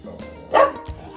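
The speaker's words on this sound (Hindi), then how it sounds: "ये है वो खतरनाक प्राणी जो आज तक मेरे को भौंकती नहीं थी, इस बार मेरे को भौंकना स्टार्ट किया है" A dog at home gives a single sharp bark close by, a short loud burst in the middle of the clip with a faint low yelp after it and no talk.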